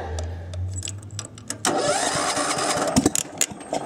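A small 8-horsepower Kohler engine cranks and catches, settling into a steady rough idle up close, with some clicks and rattles over it.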